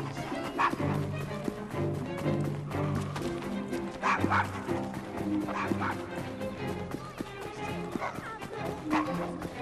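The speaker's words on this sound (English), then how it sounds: "Nice doggy." Dog in Assassin's Creed Syndicate giving repeated yips and bow-wow barks over dense game music and background noise, with a low whimper between bursts.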